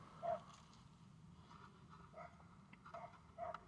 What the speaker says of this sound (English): Even with the dog barking.